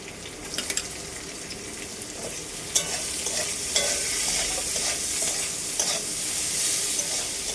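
Chopped onion frying in a pan of oil seasoned with salt and turmeric, stirred steadily, with a broad continuous sizzle and scattered scraping clicks of the spatula, close and fairly loud.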